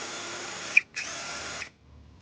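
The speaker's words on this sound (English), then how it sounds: "drill out 2 holes with a 3/16 drill bit" A power drill with a 3/16 bit whirs loudly in two close bursts, drilling holes in a 2021-2026 Toyota Sienna for trailer wiring, separated by a brief pause, then falls silent.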